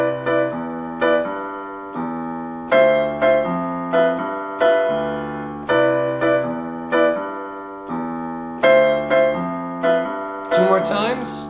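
Jazz piano chords played with both hands together in a syncopated rhythm, struck cleanly and close in repeated short stabs that ring briefly between hits.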